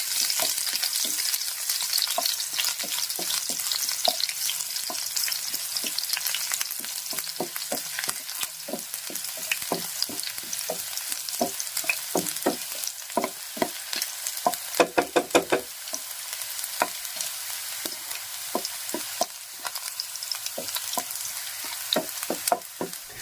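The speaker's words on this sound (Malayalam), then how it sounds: "ആ വെളിച്ചെണ്ണ ചൂടായി അതിനകത്തോട്ട് നമ്മൾ ആദ്യം ഇഞ്ചിയും ചതച്ച് തന്നെ ഇഞ്ചിയും വെളുത്തുള്ളിയും കൂടെ അതിന് ചുമക്കട്ടെ" Crushed ginger and garlic fry in hot coconut oil for a Kerala river fish curry, a steady close sizzle punctuated by frequent scraping stirs and spoon taps, with no voices.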